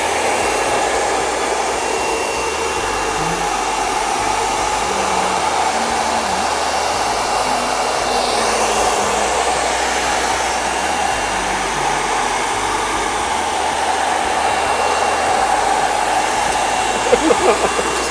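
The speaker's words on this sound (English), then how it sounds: "blow drying my painting." A hair dryer blows steadily and loudly on a painting, a constant close whoosh and whine that runs without a break through the whole stretch.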